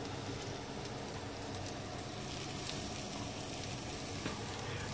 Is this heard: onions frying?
yes